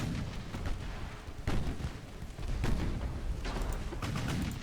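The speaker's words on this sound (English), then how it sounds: "The main guns will be firing any moment." Battleship main guns firing in the naval strategy game Ultimate Admiral: Dreadnoughts, heavy booming salvos over a constant rumbling battle din, dense and continuous with no talk.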